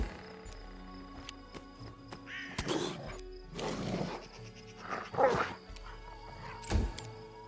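A dog companion attacks enemies during a fight in the video game Pathfinder Kingmaker, giving several rough, growling barks in separate bursts over a steady low game background.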